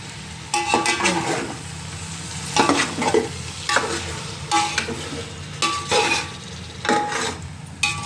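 Masala and fish frying in a pan for a Godavari-style fish curry: bursts of loud sizzling and clattering stirs come in uneven waves, with metal ladle scrapes close to the mic.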